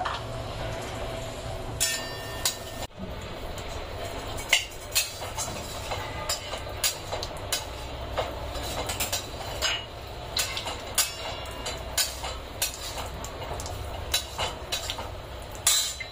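One cup of grated fresh coconut roasting in a dry pan for a Kolhapuri mutton dish, a steady dense rustle and crackle with frequent sharp scrapes and clinks from stirring, close and continuous with no talking.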